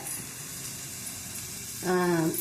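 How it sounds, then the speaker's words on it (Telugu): Tomatoes going into a hot pan of spiced base for ragi bisibelebath, a steady oily sizzle throughout, while someone talks over it toward the end. "ఇది టమాటో పండ్లు ఇట్లా వేస్తాను అనమాట"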